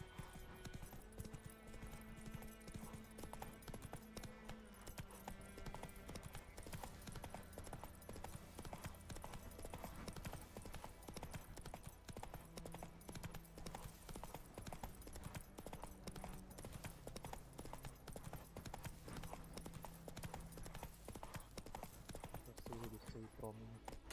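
Roach the horse gallops with steady hoof clip-clops in The Witcher 3, heard under continuous game music and a voice urging it on.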